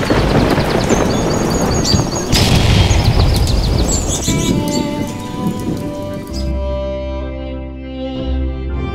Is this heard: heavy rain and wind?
yes